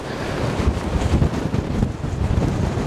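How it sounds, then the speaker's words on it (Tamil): Strong wind blows at a high mountain viewpoint in Pakistan facing a peak of about 8,126 metres, a loud continuous roar with gusty buffeting on the microphone and no voices. "பயங்கரமாக காற்று வீசிட்டு இருக்குது இந்த இடத்துல."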